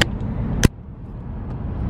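A brand new rented car driving on the QEW highway in Canada, giving a steady road and engine hum from inside the cabin with a sharp click partway through and no talk.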